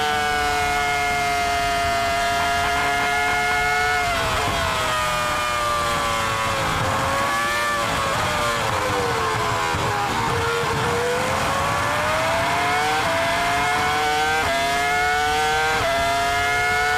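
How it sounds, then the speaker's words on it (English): Formula One cars racing and overtaking, loud screaming engines whose pitch rises and falls as the cars pass and shift gears, one engine note layered over another throughout. "What an unbelievable overtake by the Colombian Montoya"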